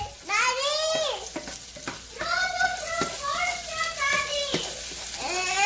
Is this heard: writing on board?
no